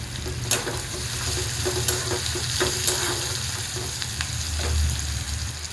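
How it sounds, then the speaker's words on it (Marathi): Garam masala sizzling in hot oil in a home kitchen, a continuous frying hiss broken by scattered crackles and scraping stirs, close and fairly loud, with no voices. "थोडासा गरम मसाला टाकूया तेलामध्ये."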